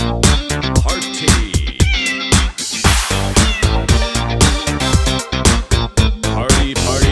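Upbeat kitty cat dance song with cat meows woven into a loud, steady rhythmic beat that runs continuously throughout.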